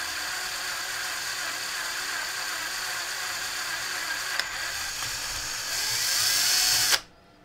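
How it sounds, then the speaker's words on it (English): A power drill enlarges holes in connectors to fit M3 screws during radio restoration work, a steady close whine running throughout, rising in pitch near the end before cutting off abruptly. "the M3 screws, screws are just a little bit too big, so I've got to drill these out a little bit."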